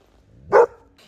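A single short, sharp bark from a reactive dog, loud and close, with a faint trailing yip right after.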